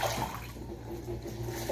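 Running water rinsing dried salted beef (charque) in a kitchen colander, a steady faint splash and trickle with no talk.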